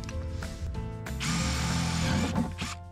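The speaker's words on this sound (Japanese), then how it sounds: "こちらにインパクトドライバーにドリルをつけてありますので、軽く何箇所か穴を開けていきたいと思います" An impact driver fitted with a drill bit bores holes into a plastic planter for German iris, giving a brief whir and then a sustained, loud grinding buzz with ratcheting clatter, close up and without speech.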